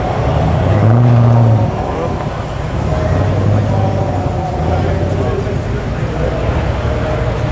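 A Mercedes C63 AMG coupe pulls away from a car show at Homebush, Sydney, its engine a loud, deep rumble that swells early, then settles into a steady drone with people talking nearby.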